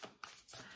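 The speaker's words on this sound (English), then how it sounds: "I'm trying to shuffle as best I can." Playing cards are shuffled by hand for a reading, producing a few quick, soft riffling bursts, close and quiet, with no one speaking.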